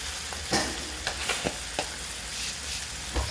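Steady sizzling of tomatoes, garlic and onions frying in a pan, with scattered scraping stirs and utensil knocks over the continuous hiss.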